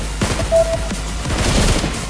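Rapid bursts of in-game gunfire in BGMI, several quick loud shots spread across the moment with sharp impacts of bullets striking a wall, no talking over it.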